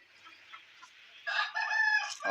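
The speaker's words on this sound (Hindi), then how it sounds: "गांव की खूबसूरत मुर्गे और मुर्गियाँ यहाँ पर मौजूद हैं।" Village roosters and hens call close by: soft clucking first, then a loud rooster crow rings out over the second half.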